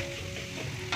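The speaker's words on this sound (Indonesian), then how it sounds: "Nah ini ditumis dulu ya, biar bumbunya tercampur merata di sayur dan juga jamur merangnya." Mixed vegetables and straw mushrooms stir-fry in a pan with seasoning, giving a loud, continuous sizzle and crackle close up, with a brief scrape near the end.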